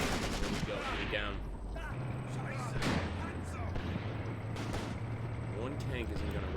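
Gunfire in the Graviteam Tactics war game, a loud tank-battle skirmish with bursts of shots and rumbling vehicles under continuous talk.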